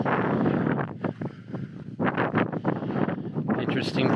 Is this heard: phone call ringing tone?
no